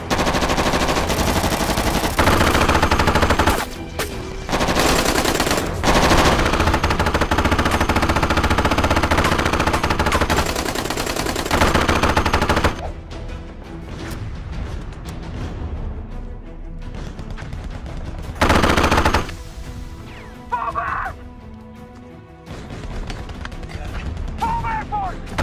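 Sustained automatic machine-gun cover fire in an action movie battle scene, loud dense bursts with heavy booms, easing into sparser shots under shouted voices before another loud volley.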